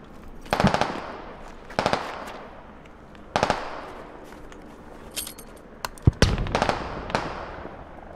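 Distant gunfire in the military shooter game Squad, sharp cracks and short bursts echoing out every second or so, some shots quicker and clustered, heard alone without talk.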